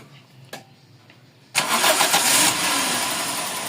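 A Toyota 4A-FE car engine with low power and an idle problem cranks and catches abruptly, then settles into a steady, loud idle close by; a faint knock sounds just before the start.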